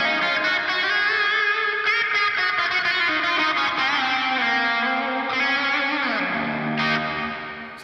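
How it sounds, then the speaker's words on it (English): Electric guitar played through a reverb effect on a Line 6 Helix routed via its effects loop, sustained distorted chords and notes with a washy reverb tail, steady and fairly loud, ending in a slide down and fading decay. "We have reverb."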